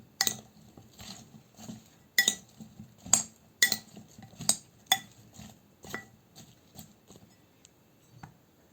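Sauce is stirred into baked beef fillets in a dish, producing scattered clinks and scrapes of a utensil against the pan, some sharp and bright, spread unevenly over several seconds.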